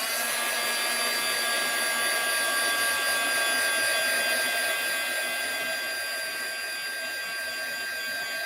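An embossing heat tool melts embossing powder on a handmade garden journal, blowing a constant loud hairdryer-like whoosh with a thin high whine, unbroken and close throughout.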